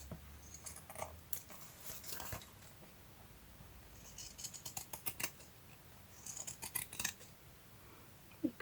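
Scissors snip through paper for a vintage Christmas journal in quick, crisp bursts of close, faint cuts, with short pauses between runs of snipping and no talking.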